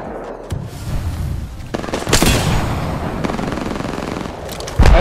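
Rapid automatic gunfire rattles through an Apex Legends ranked match, dense bursts with sharper cracks, continuous and close for several seconds with no talking.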